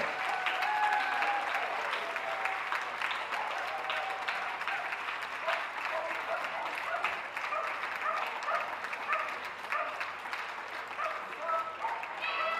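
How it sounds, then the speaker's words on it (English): Audience applauding and cheering at an indoor dog show for the Working, Pastoral and Terrier groups, dense sustained clapping from a large crowd lasting throughout, with a voice faintly audible beneath. "Ladies and gentlemen, cheer them on."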